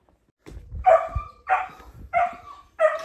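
Loose dogs bark at an outdoor feeding spot in the Philippines, with four separate bark bursts in an uneven rhythm that sound fairly close.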